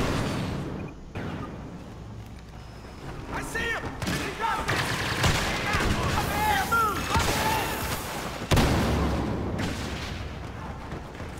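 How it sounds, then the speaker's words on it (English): Rapid shotgun blasts and other gunfire crack through a busy battle in the Star Wars Battlefront video game, sharp shots scattered over continuous rumbling action and louder near the end. "shotgun seems to work okay here"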